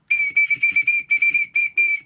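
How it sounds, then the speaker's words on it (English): An Okinawan finger whistle, a small bamboo piece with a hole, plays one high shrill note in eight quick, evenly spaced bursts, loud and close with no talking. "number 2 is the Okinawan finger whistle from the Okinawa Islands of Japan"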